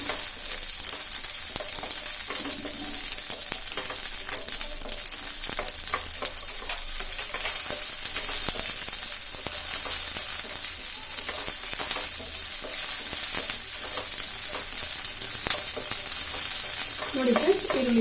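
Onion and green chillies fry in a pan for a methi chilli chicken dish, with a steady, loud sizzle and repeated scraping stirs running throughout, no voices.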